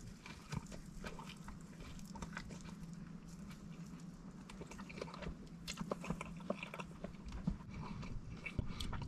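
Close, wet biting and chewing of a bacon and spinach omelette, with irregular soft crunches and mouth sounds repeating steadily throughout, no talking.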